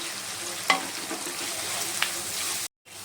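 Finely chopped tomato fries in a pan over high heat, giving a continuous crackling sizzle with a couple of sharp clinks from stirring, then a brief cut to silence near the end.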